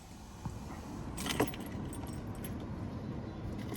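Car keys jangle as they are fitted into the ignition of a Mercedes 220CE W124 coupe, a close metallic rattle over a low steady background hum, with no talking.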